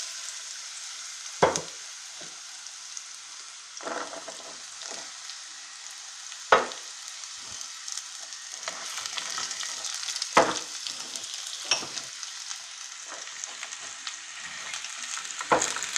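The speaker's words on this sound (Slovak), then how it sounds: "Do oleja pridáme všetku koreňovú zeleninu." Root vegetables for borscht fry in hot oil, giving a continuous soft sizzle with occasional louder stirring scrapes and clacks, close by and without speech.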